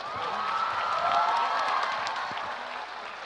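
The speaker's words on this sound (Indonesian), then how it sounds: "Berikan tepuk tangan 5 juta untuk Naya." Applause from an audience at an Islamic lecture (ceramah) at a university in Indonesia, a steady wash of clapping that swells slightly in the middle and holds throughout, fairly loud and unbroken, with no speech over it.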